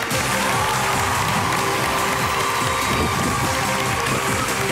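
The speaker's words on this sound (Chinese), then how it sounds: "接下来我们掌声有请" An audience at a noodle and dumpling food event bursts into sustained applause, a dense steady wash of clapping lasting several seconds with some cheering mixed in.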